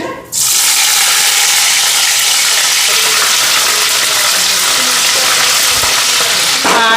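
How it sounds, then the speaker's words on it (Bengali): Dried fish (shidol shutki) frying in oil in a kadai, a loud, sudden sizzle that erupts and holds as a dense, steady hiss close by. "শুটকি নিলাম কড়াইতে এদিকে তেল দিয়ে দিছি"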